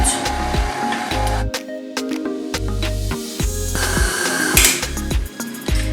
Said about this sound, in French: j'ai rajouté mes 200 g de beurre et on va pétrir pendant 15 minutes